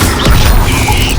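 A loud, dense crashing blast from the Bombarda explosion spell in the video game Hogwarts Legacy, a single heavy impact with rumble filling the short moment.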